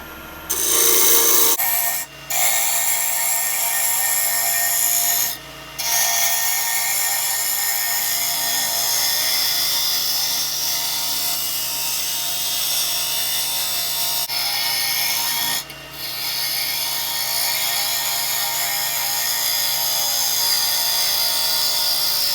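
A wood lathe spins at about 1700 RPM while a Viking-style bowl is turned, and a tool rubs and scrapes continuously against the wood in a loud, steady hiss with a few brief pauses.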